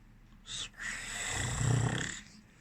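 A voice imitates a man snoring loudly in a tent, one long drawn-out rasping snore with a brief snort before it, close and alone.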